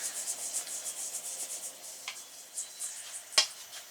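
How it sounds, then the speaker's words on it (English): Dry ingredients for whole wheat Guinness bread are mixed together in a bowl, producing soft rhythmic rubbing and scraping strokes close up with a couple of sharper scrapes, quiet and alone. "I'm going to mix this together and incorporate it."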